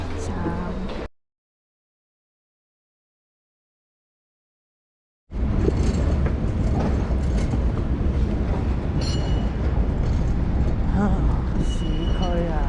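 A metro train rumbles through a Budapest subway station, a loud, dense roar with rail clatter that rises after a brief silent gap, with people talking over it.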